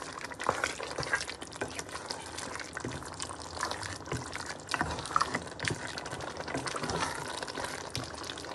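Spice masala being stirred and fried in a pan for chicken biryani, a continuous close sizzle with scraping and stirring movements and no voices.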